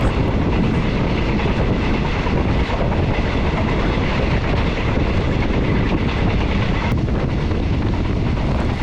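Passenger train heard from aboard while running on rails in Thailand between Rangsit and Ayutthaya, with a steady, loud, continuous roar of wheels and rushing air throughout, with no talking.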